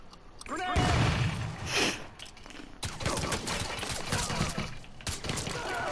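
A grenade is thrown and explodes in Mafia 3, a sharp loud blast followed by a burst of rapid gunfire and clattering impacts, close and chaotic, with no speech over it.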